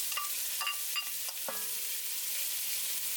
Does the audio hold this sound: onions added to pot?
yes